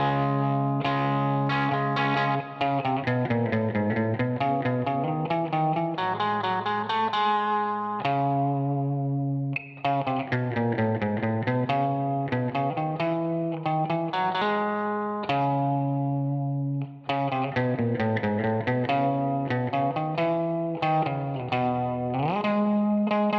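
A clean amp tone from a Line 6 Helix with a Variax guitar, set up for a signature sound: sustained chiming notes with chorus and echo, played as slow melodic phrases that ring out, close and steady with no talking.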